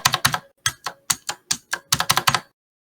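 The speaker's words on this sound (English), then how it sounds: "we are trying to type SOS in Morse code." Rapid keyboard key presses tapping out SOS in Morse code while playing the video game Weird Dreams, a burst of crisp clicks in short clustered groups, close and clear with no voices.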